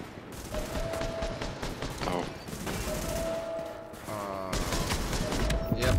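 Enemy gunfire in the video game The Division, with repeated bursts of rapid shots and clattering fusillades at a moderate level, running under the game's background sounds and faint speech.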